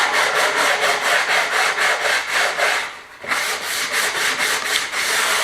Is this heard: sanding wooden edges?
yes